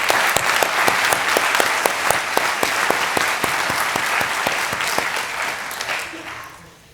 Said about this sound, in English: If you could just join me in a round of applause for her